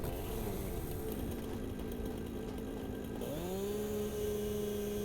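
A chainsaw in the factory-building video game Satisfactory, its motor buzzing steadily at idle, then revving up with a rising whine that settles into a sustained higher drone, fairly close and alone.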